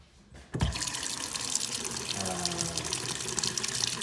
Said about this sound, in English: let's check water pressure